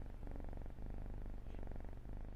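Newly adopted kitten purring close to the microphone, a soft, steady rhythmic rumble with regular breath pulses repeating for a couple of seconds.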